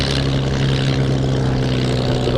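A Grob Tutor propeller aircraft flies over the Duxford Battle of Britain Airshow in 2018, its engine and airscrew giving a steady, fairly loud droning hum throughout.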